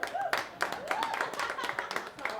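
An audience at a stand-up comedy show claps in quick, faint bursts while a comedian keeps talking over them.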